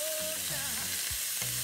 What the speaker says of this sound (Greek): Πάντα να ροδίζετε το κρέας, γιατί δίνετε περισσότερη νοστιμιά στο φαγητό σας.